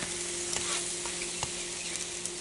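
Thin crepes frying in a hot pan after being flipped, a steady close sizzle running throughout with a few small clinks of a utensil against the pan.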